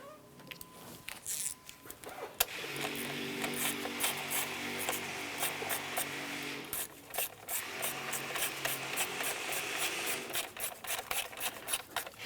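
Nuts are snugged down on a 2001-2005 Honda Civic engine with a ratchet, a close, sustained grinding rasp of rapid clicks in two long runs separated by a short pause.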